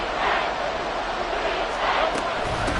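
Football stadium crowd at a Saints game roaring in a dense, sustained wash of cheering and noise as a goal-line play unfolds, with commentary voices over it.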